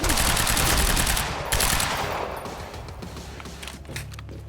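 Automatic turret fire from the video game Quantum Break comes as a loud, sustained barrage of rapid shots, then tapers into scattered, fainter cracks and echoing impacts.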